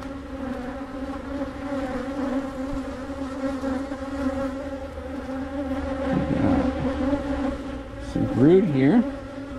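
Honeybees swarm around an opened hive, a dense, steady buzzing close to the mic, with individual bees swooping by loudly near the end.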